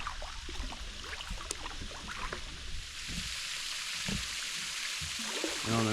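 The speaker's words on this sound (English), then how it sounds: "It's getting a little harder to hear that flowing water." A waterfall at Lake Malone, Kentucky, flows as a steady, fairly faint wash of water heard from a kayak, with soft splashes and paddle drips close by.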